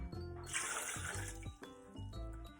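A glass of water poured into a smoothie, a short steady splash and gurgle of liquid over a soft background hum, fairly quiet and close, with no talk.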